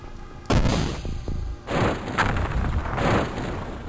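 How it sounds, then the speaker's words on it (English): Cyberdisc explosions in the XCOM video game boom out as a sharp blast followed by a second heavy detonation and crumpling rumble, loud and close, with no talking. "Oh, that crumpling sound you heard? That means that the Cyberdisc explosion took out another Cyberdisc"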